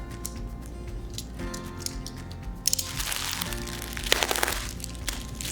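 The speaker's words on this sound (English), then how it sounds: "Slice open the tape." A box cutter slices through packing tape on the box of an oval countertop mirror with a trumpet base. A sudden close crackling rip runs for about two seconds over a low steady background hum.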